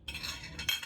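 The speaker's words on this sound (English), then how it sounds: "I'm gonna drop my fork" A metal fork clatters onto a plate with a brief metallic clink and rattle, quick and close, and a second sharper clink follows.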